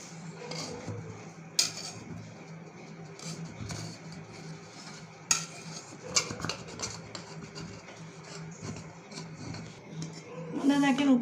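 A cooled jackfruit cake pan is turned over and the cake lifted out, with metallic scraping, rubbing and a few sharp clanks over a steady background hum.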